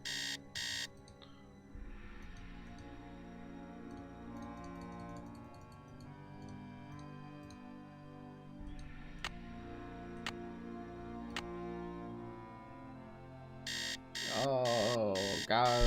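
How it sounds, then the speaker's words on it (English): An alarm clock rings inside the Nancy Drew game Message in a Haunted Mansion, bursts of shrill repeated ringing at the start and again near the end, over a soft musical background. "it's the same noise as my alarm"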